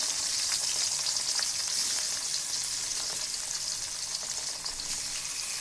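Small native koi fish dropped into hot oil, a loud continuous sizzle and crackle that stays dense and even throughout, close and without voices.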